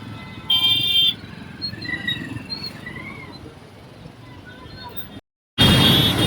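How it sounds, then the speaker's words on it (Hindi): Road traffic on a city street after dark, with passing engines and horn toots, a steady broadband wash of vehicles near and far and a sudden loud burst close by near the end. "ये देखो ट्रैफिक"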